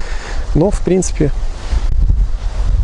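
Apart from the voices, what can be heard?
strong wind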